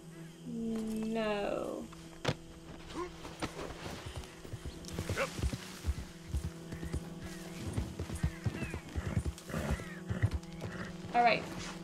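Horse in the video game Red Dead Redemption 2, with clip-clop hoofbeats and a brief whinny early on, heard up close beneath game ambience and scattered voices.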